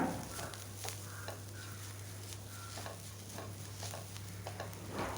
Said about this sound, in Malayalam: നല്ലതുപോലെ ഇളക്കി മിക്സ് ചെയ്യാം